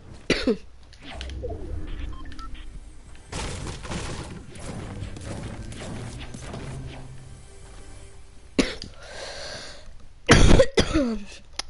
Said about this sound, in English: Sorry guys, my cough is so bad.